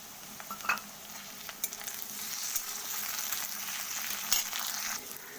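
Onion and tomato fry in a pan with a constant soft sizzle, the onion browning, broken by occasional stirring scrapes and light taps.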